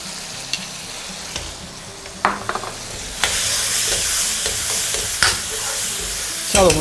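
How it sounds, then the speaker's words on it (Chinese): Cauliflower stir-fried in a wok with soy sauce and oyster sauce, with a loud, steady sizzle that swells as the food goes in and sharp clanks of the spatula tossing it. "下入我们的花菜，花菜这时候已经熟了啊，翻炒一下，快速的翻炒一下"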